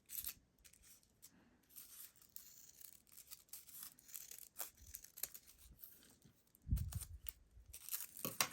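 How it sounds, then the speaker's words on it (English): Scissors snipping a leaf shape out of a folded strip of crepe paper, with quiet crinkly cuts and rustles at an uneven pace and a louder crumpling handling sound near the end, close up. "cut a leaf shape from the folded strip of crepe paper"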